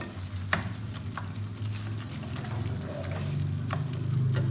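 Soft tomato masala fries in a pan for a potato and egg dish while a spoon mashes and stirs it. A low, even sizzle runs throughout with occasional light scrapes, and faint music plays underneath.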